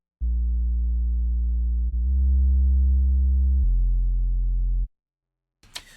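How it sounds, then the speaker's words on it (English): A very simple synth bass line from a Reaktor 6 patch plays three long, steady, deep sustained notes in a row, loud and alone. It cuts off cleanly, followed by a brief soft noise. "So my bass line is right here."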